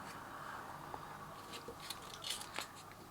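A knife or blade cutting through sheets of puff pastry in a home kitchen during Ramadan recipe preparation, giving faint, scattered crisp snips and taps over a quiet room hum, with no talking.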